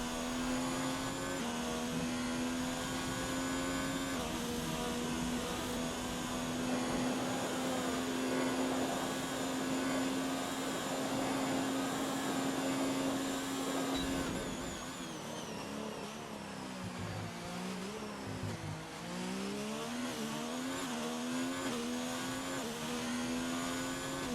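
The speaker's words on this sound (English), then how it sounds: "Let's see what the Haas driver can do as we're going to go on board with him." Haas Formula 1 car in a racing video game on a flying lap at Monza, its engine a loud, steady high-pitched whine held at full throttle, then dipping and rising briefly as it brakes and downshifts for a chicane before pulling hard again.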